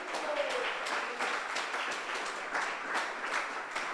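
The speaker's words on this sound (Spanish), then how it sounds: "démosle un aplauso al Señor esta noche" A church congregation applauds during an evening service, a broad, sustained wash of clapping from many hands at moderate distance, fairly quiet and even throughout.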